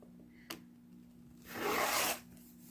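Quilt block fabric edges are trimmed, with a short tap and then a single close rasping cut lasting about a second in an otherwise quiet room.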